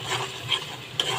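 Spice paste frying in a pan for a Bengali koi fish curry, a soft steady sizzle with faint stirring scrapes and a couple of brief sharp clicks, close and moderately quiet.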